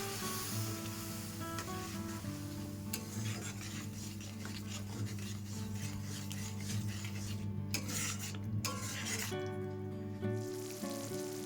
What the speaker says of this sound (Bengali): এবার একটু জল দিয়ে মশলাটা ভালো করে কষিয়ে নেব।